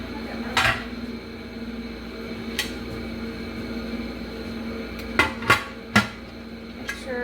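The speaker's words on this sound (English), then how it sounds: "we're going to go ahead and put the lid on that." A metal lid goes onto a pressure canning pot of home-grown ham, giving several sharp metallic clanks and clatters, one early and a cluster near the end, over a steady low background hum.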